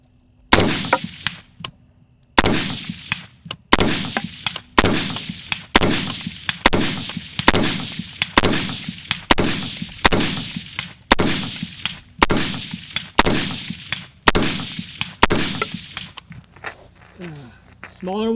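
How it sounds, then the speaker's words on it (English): An FN A4 rifle fires Norma .223 rounds at a 200-yard range: about fifteen loud, sharp shots at a steady pace roughly one per second, each with a ringing tail, plus a faint voice at the end. "we're at 200 yards shooting this Norma 223, which is pretty good so far."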